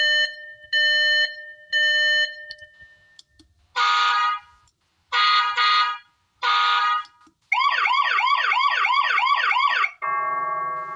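A solar-powered infrared wireless alarm system runs through its siren tones: three short beeps, then three loud buzzing bursts, then a fast warbling wail and finally a lower steady tone, all loud and close with no talk.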